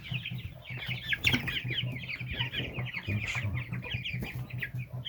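Several young chicks cluck and chatter continuously, close by, in a farm shed with a heated floor, with soft overlapping calls and occasional louder squawks.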